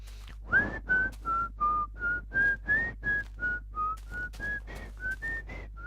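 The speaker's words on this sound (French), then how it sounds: "je suis un très grand siffleur, un très grand musicien" A man whistles a simple melody alone, a steady series of about twenty clear, separate short notes that rise and fall, close to the microphone over a faint low hum.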